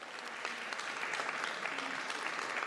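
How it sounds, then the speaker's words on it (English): Audience applause at a celebration of service to education honoring a teacher and coach, a steady, dense wash of many hands clapping throughout, moderately loud and unbroken with no talk over it. "that deserves another round of applause then"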